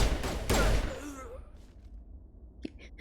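Gunfire in the video game Mass Effect, a loud burst of rapid shots up front that fades into quieter ambience, with one more sharp crack near the end.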